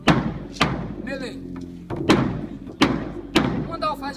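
Alfaia bass drum beating a maracatu baque melê rhythm, loud deep thuds in a steady repeating pattern with lighter strokes between, close up, with a voice speaking over it.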